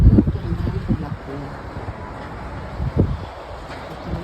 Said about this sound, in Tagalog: Videoan ko na dahil malakas ang hangin baka matanggal